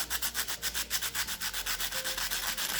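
Sandpaper rubs back and forth over turquoise inlay jewelry in steady rhythmic strokes, close and fairly loud, with no voices.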